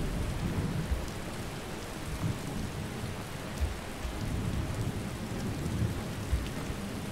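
Steady rain pours across the outdoor scene in the video game Skyrim, with low thunder rumbling and swelling in the background throughout; no one speaks.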